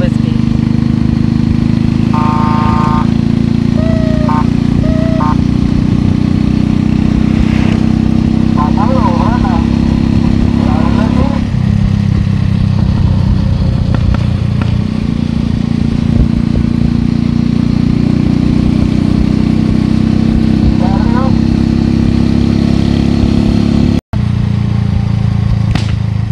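A motorcycle with a reworked engine runs steadily nearby, a loud continuous mid-pitched drone that shifts in tone partway through, while people talk over it.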